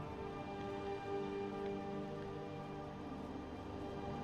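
Steady rain falling in the open world of the video game Skyrim, an even broadband patter running continuously at moderate level with no talk over it.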